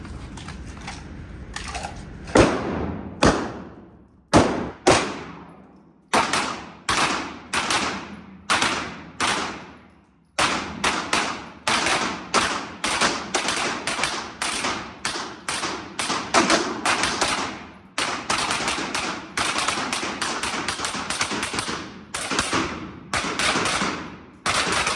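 Gunshots from one magazine fired at a shooting drill ring out in sharp, loud bursts, first spaced apart and then in quick runs of shots with brief pauses between strings.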